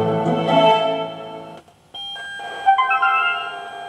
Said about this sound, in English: It'll play a little couple of tones as it boots through the speakers